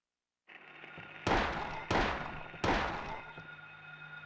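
Three loud gunshots ring out in the Silent Hill video game, evenly spaced about a second apart over a steady ambient drone.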